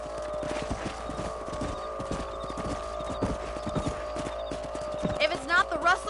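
Horse hooves clip-clop steadily and close in the Western video game Red Dead Redemption while a rider travels across a ranch property, with a continuous musical drone and some voices underneath.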